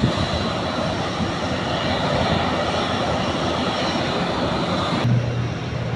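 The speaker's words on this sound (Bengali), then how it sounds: "ওই যে পাশে আরেকটি বিমান দেখা যাচ্ছে, আসতেছে, কেবল ল্যান্ড করেছে।" A passenger airplane that has just landed at an airport rumbles with a loud, continuous engine roar, then the sound drops off abruptly near the end.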